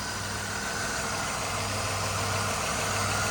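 A 1986 Oldsmobile 98 Regency Brougham with a transversely mounted fuel-injected V6 idles smoothly and steadily at close range, a constant low hum with no revving.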